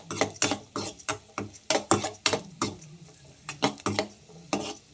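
Cashews and raisins fry over low flame in a small pan while a spoon stirs and scrapes them in quick, irregular strokes, close and clattery, with a faint sizzle underneath.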